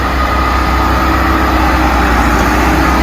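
Tractor engine labouring as it pulls a load of sand, a loud, constant low diesel drone that stays close and unbroken, no talk.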